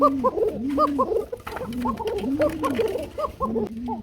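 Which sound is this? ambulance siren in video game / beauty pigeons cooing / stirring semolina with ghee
beauty pigeons cooing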